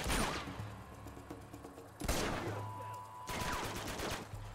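Blind gunfire in the video game Uncharted: Among Thieves sounds as three loud bursts of rapid shots about a second apart, each followed by a rattling tail, close and sharp.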